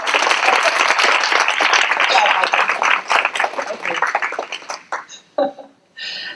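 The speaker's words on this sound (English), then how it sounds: "Maybe a round of applause." A keynote audience at a digital humanities event breaks into a loud, dense round of applause that tapers off into a few scattered claps near the end.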